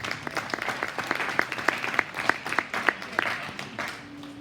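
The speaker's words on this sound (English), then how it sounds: "Let's give her a round of applause." Scattered, fairly faint clapping from a modest crowd at a cattle show honoring the champion British steer, individual claps distinct and unevenly spaced, fading out toward the end.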